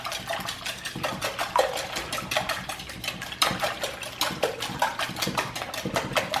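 Eggs and milk are whisked in a bowl, a rapid, rhythmic metallic clatter of the whisk against the bowl, close and steady with brief pauses, with no speech.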